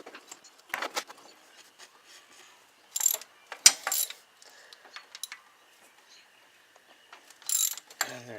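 A ratchet with a 1/2 inch socket turns the intake manifold bolts on a small-block Chevy V8 in an 87 Chev 2500 truck, giving several short bursts of clicking separated by quiet pauses, close by.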